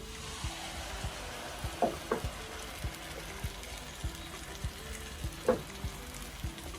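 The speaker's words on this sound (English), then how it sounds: "Now I'm going to start frying the pepper." Chunky blended red pepper sizzles steadily in a hot pan, with periodic soft clunks and scraping as it is stirred.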